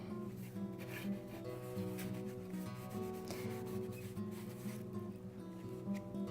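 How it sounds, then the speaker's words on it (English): A paper towel scrubs blue, red and white paint mixed with matte medium onto a canvas, giving a soft, continuous rubbing sound heard close but faint, with a quiet hum underneath. "I'm just gonna scrub it on here"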